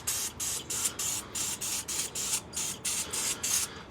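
Short bursts of brake cleaner aerosol spray hiss in a quick, regular rhythm, about a dozen sprays in a row, close and fairly quiet, during an oil change on a 2019–2024 Toyota RAV4.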